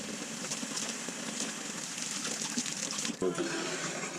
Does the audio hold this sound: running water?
yes